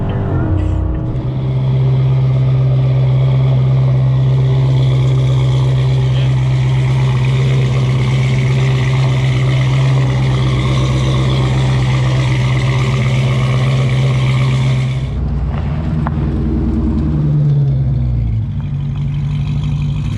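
A Dodge Challenger Scat Pack engine with JBA longtube headers and straight-pipe exhaust rumbles loudly and steadily at close range, then revs and drops as the throttle changes near the end.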